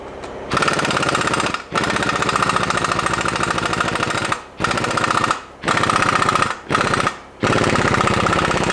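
A NAPA 1/2 inch impact wrench hammering on a nut, loud and close, in long rattling bursts separated by short pauses with a few quick triggers near the end.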